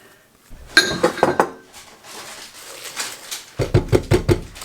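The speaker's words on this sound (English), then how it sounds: "I'll give it another good mix with my spatula" A spatula works strawberry cake batter around a bowl, giving scraping swipes and a quick run of rhythmic clinks and taps against the sides, close and fairly loud, with no talking.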